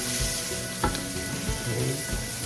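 Pork for Bicol Express sizzles steadily in its own rendered fat in a pan. A continuous close frying hiss carries small crackles and pops and a few stirring knocks, with no voices.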